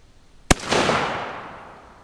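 An old .410 shotgun fires once at a mailbox in a backyard, a sharp, loud single report followed by a long, rumbling echo that slowly fades.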